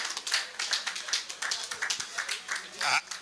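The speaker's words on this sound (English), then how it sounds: "Please, a big round of applause." Scattered, uneven clapping from a small audience at an old boys' alumni gathering, with individual claps distinct rather than blended, and voices talking over and between them.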